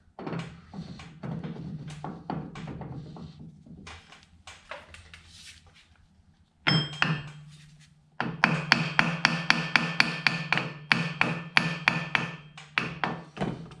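Hammer blows drive a bearing onto the shaft of a John Deere 47 snow blower. Scattered close knocks come first, then a quick, steady run of sharp metallic taps after a short pause.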